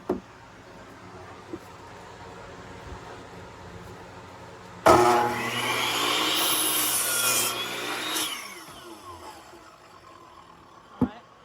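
Wooden scrap boards cut with a handsaw, a loud burst of rasping strokes lasting about three seconds in the middle, with a few knocks before and after and otherwise quiet surroundings.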